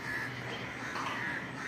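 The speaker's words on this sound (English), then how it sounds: "Lots of crows." Crows cawing in the video game In Stars and Time, a dense, steady flock chorus of harsh calls filling the short stretch at moderate level with no talking.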